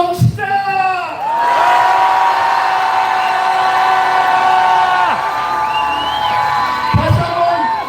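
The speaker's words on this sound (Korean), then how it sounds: "즉각 함성 시작!" A large protest-rally crowd in Incheon roars and cheers in one long sustained shout lasting several seconds, loud and close, with voices briefly heard at the start and end.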